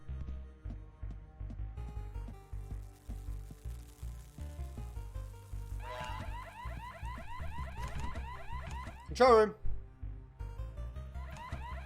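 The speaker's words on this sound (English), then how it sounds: "the alarm's just going to keep going till I find an override switch" An alarm in a prison cell block in the video game Prison Break rings on continuously, a pulsing low electronic drone that turns into a loud warbling wail partway through, with someone speaking briefly over it.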